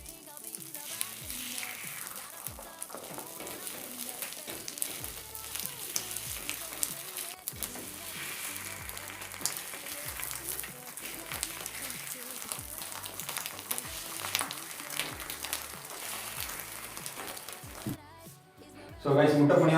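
Egg paniyaram sizzle and fry in oil in a paniyaram pan after being flipped, a steady crackling hiss with brief stirring or turning taps, which cuts off near the end.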